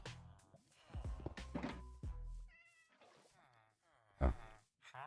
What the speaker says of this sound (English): You heard that cat?